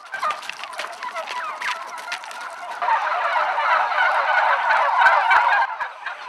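Black American Bronze turkeys raised for meat on a farm in Kandıra, Türkiye gobble loudly and continuously, many birds calling over one another in a dense, near chorus.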